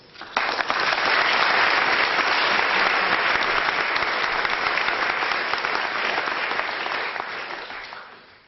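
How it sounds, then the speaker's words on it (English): Conference audience applause swelling up quickly into a warm, dense wash of clapping that holds steady for several seconds and then tapers off, with no talking over it. "Please give him a warm round of applause."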